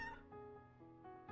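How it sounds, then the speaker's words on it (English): Cat in a video game meows softly in a few short tonal calls, faint and close, with quiet pauses between them and no one talking. "That's the cat that got power washed."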